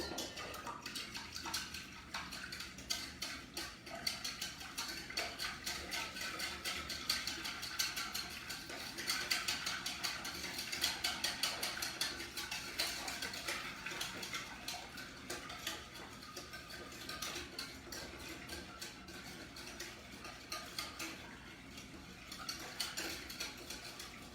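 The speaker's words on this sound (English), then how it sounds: "I'm going to give that a really good whisking." A whisk beats lemon curd in a bowl with rapid, continuous rhythmic clinking and scraping, close and fairly faint, with no voices.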